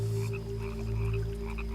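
An Australian rocket frog croaks in a brief, continuous, close-up call with a buzzy, droning tone and no other sounds around it.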